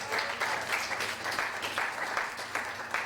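An audience at a talk applauds steadily, a dense wash of clapping at moderate level that holds evenly for a few seconds.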